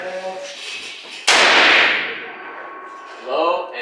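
A single loud, close gunshot at an open-air gun range in Las Vegas, a sharp crack that decays into a long echo, with voices talking before and after it.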